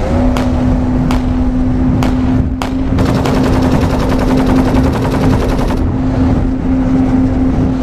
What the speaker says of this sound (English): They're shooting at me, guys.